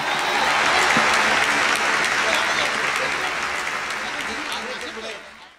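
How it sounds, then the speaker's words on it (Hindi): An audience at a stage event claps loudly and continuously, a dense wash of applause that slowly fades toward the end, with voices faintly mixed in. "पगले ताली बजाओ।"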